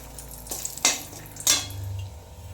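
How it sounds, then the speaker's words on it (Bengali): Whole dried red chillies and bay leaves drop into hot oil for tempering, giving two or three short bursts of crackling sizzle with a soft clatter of pan and utensil in between. "আমি এবার ফোড়নটা দিয়ে দিচ্ছি এই তেলেই।"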